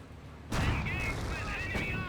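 Company of Heroes battlefield combat in which volleys of rifle and machine-gun fire crack out, with a sudden loud onset, sustained rattling shots and a faint voice-like layer over the din.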